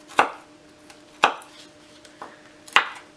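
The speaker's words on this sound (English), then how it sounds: "You have to wear gloves when you're chopping hot peppers." A knife chops hot peppers on a cutting board with three sharp, separated thuds at uneven spacing, close and fairly quiet, with no talking.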